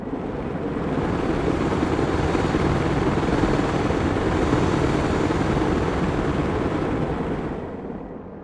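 A Black Hawk helicopter in the military video game Broken Arrow makes a loud, steady rotor and engine roar. It swells in over the first second, holds strong and even, then eases off near the end, with no voices.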